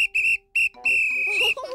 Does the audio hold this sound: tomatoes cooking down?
no